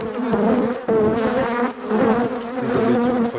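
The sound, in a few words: honey bees buzzing at an opened hive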